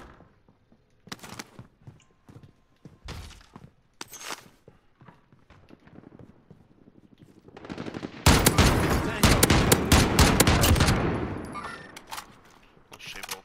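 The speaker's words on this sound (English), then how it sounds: "The sound bite for the DMR wasn't loading right because my game was still loading." A DMR rifle firing in an online shooter game, with scattered single shots and footsteps at first, then a loud dense stretch of rapid automatic gunfire that fades out at the end.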